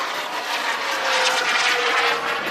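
An F-16 fighter jet flies a low pass over an airfield, its engine a loud, broad roar that swells slightly as it passes close by.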